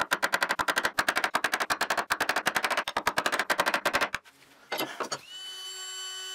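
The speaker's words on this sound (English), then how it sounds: "accentuate the cuts with a chisel so that they were much more" Rapid, close chisel taps cutting bow tie inlay recesses into a wood desk slab, a dense run of sharp wooden knocks for about four seconds, then a brief scrape and a faint lingering hum.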